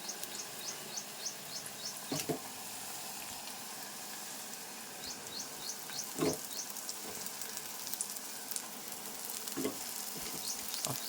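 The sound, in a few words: tamarind leaves frying with onions in pan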